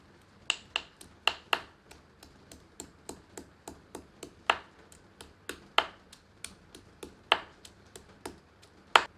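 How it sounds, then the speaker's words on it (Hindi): Steady rhythmic pounding of five or six garlic cloves in a mortar, crisp knocks roughly three per second with some heavier hits mixed among lighter ones, heard alone. "5 से 6 लहसुन की कलियां डालकर इन्हें भी कूट लेते हैं"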